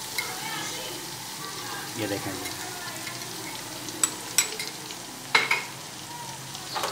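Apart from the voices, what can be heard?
stirring kadhi in a pan with a spoon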